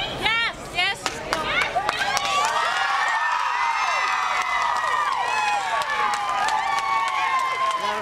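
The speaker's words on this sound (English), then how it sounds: "the crowd just out of the Center County courtroom learning the verdict" A crowd gathers outside the Centre County courtroom at the Jerry Sandusky trial verdict, a loud steady wash of shouting and cheering voices with clicks and bursts near the start.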